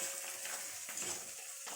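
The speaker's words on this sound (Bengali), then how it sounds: "ক্যাপসিকামটা একটু লাল হয়ে ভাজার জন্য আমি দিলাম।" Capsicum and onion frying in white oil for chilli chicken, a steady soft sizzle with faint stirring scrapes, quiet and close, no voices.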